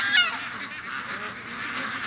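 Ducks let out a short burst of alarmed honking calls as they flee from the bush, then fainter scattered calls trail off against steady outdoor background noise.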